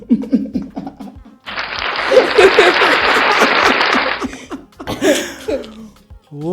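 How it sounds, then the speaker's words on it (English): An audience applauding for a mom during a backyard podcast, a dense burst of hand claps lasting about three seconds, with talk and laughter before and after. "Please, some hand claps for the mom."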